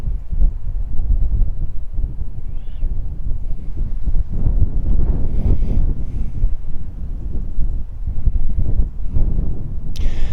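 Strong gusting wind of 18 to 20 miles an hour batters a hovering DJI Mini drone fitted with fresh propellers, a loud, continuous low roar of buffeting across the microphone with a brief sharp crackle near the end.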